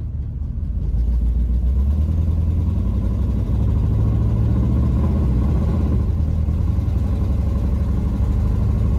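A straight-piped 1984 Camaro Berlinetta V8 drives past at close range with a loud, continuous low rumble, running rough as if misfiring, the engine note steady and uneven throughout with no talking.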